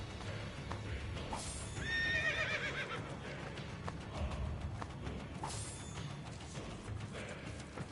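A horse whinnies loudly in the Assassin's Creed Brotherhood video game, with steady clip-clop hoofbeats carrying on under and after the neigh amid game ambience.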